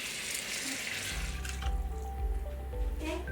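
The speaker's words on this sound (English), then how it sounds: "we're gonna add a little bit of water" Water poured into a pan of cashews while cooking, a short splashing pour with drips that trails off, heard close up with no talk over it.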